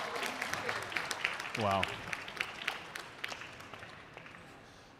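Crowd applause at a pickleball match in China: clapping and scattered claps run through the whole stretch and slowly fade, while one voice gives a short exclamation midway.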